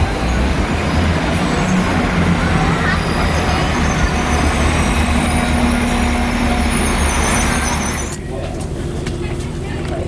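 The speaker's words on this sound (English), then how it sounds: "And then my train to Blackpool's coming in." A train bound for Blackpool rumbles into a station with a loud, continuous roar and faint squealing tones, easing off near the end as it slows.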